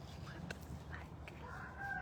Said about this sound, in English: And now the chickens are fighting.